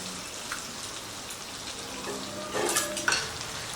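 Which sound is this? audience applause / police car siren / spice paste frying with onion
spice paste frying with onion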